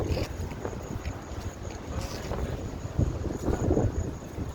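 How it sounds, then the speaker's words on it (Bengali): Strong wind blows at a seaside resort at night, a loud, gusting rumble of air buffeting the microphone, surging and easing in waves with no voices. "খুব হাওয়া দিচ্ছে, ভীষণ হাওয়া দিচ্ছে।"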